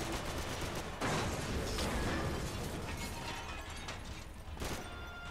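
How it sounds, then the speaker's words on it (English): Sustained gunfire aimed at a ceiling in the shooter game Max Payne 3, a dense, loud burst of rapid shots with clattering debris, continuous for several seconds with a brief lull and renewed bursts, no talking over it. "Maybe I shoot the ceiling down. Yes, shoot the ceiling."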